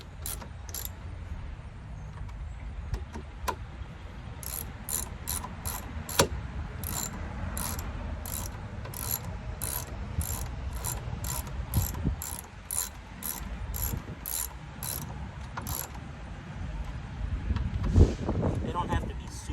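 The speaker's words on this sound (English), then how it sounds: "Put your ratchet back on the tightening mode" A ratchet rapidly clicks while tightening the bolts on the coolant overflow container of a 2012 Sonic. Its steady, close metallic ticks come in long runs over a background of low mechanical noise.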